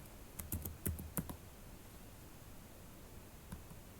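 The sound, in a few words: typing on a computer keyboard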